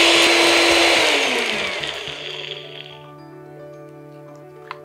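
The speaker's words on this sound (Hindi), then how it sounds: "लौंग, जीरा, साबुत काली मिर्च, ग्रीन इलायची, इस सबको पीस लेना है।" Whole spices such as coriander seed, cloves, cumin, black pepper and green cardamom ground coarsely in an electric grinder, a loud whirring buzz that winds down to a fading hum over a few seconds.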